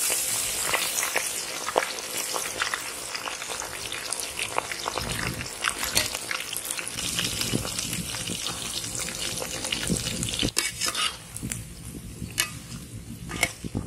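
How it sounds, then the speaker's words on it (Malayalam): Chicken feet deep-fry in hot oil, a dense, steady crackling sizzle with scattered sharp pops running throughout, close and fairly loud, easing slightly near the end. "കുറച്ച് ഗ്യാപ്പ് മെയിൻറ്റെയിൻ ചെയ്തിട്ടാണ് പൊരിച്ചെടുക്കുന്നത്."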